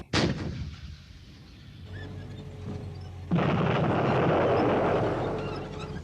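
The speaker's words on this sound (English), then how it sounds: "On landing, the hose will explode, making a breach 200 meters long and 8 meters wide." A military mine-clearing hose explodes in a sudden blast at the start, then a rumbling lull before a second, sustained roaring burst that fills the rest of the clip.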